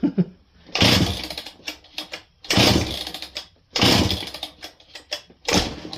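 A Husqvarna 268 chainsaw with a rough, unhealthy-sounding engine is cranked over in four loud, close bursts of a few seconds each, with short pauses between the pulls.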